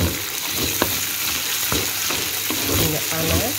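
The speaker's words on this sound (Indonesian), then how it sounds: "Kita goreng, kita tumis" Patin catfish frying and being stir-fried in hot oil for pindang, a steady dense sizzle throughout with occasional sharper crackles and scraping stirs, close and fairly loud with no talking.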